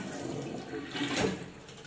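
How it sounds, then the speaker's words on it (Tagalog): A flush toilet in a newly built bungalow's bathroom gives a steady rushing of water for a couple of seconds, swelling briefly near the end, close by with no talk. "Naka-flush"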